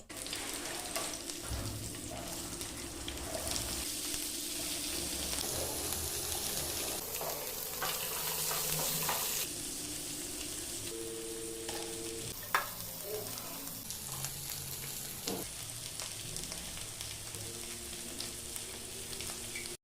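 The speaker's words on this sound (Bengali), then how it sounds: "রসুন কুচি, ক্যাপসিকাম, পেঁয়াজ, কাঁচা লঙ্কা কুচি দিয়ে সামান্য ভাজা হলে" Garlic, capsicum, onion and green chilli fry in hot oil with a constant sizzle, interrupted by scraping and stirring clatter from a utensil against the pan.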